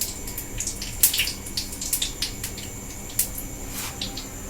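Battered pointed gourd pakoras sizzle in hot oil, a steady crackling bubble with sharper pops and spits as the pieces go in one by one, fairly close and with no talk.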